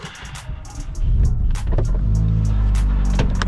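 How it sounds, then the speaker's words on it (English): A stock Vauxhall Astra VXR cold-starts: a brief starter crank, then the engine catches with a loud jump in volume and settles into a steady, rumbling idle, close by and with no talk. "First thing first, cold start."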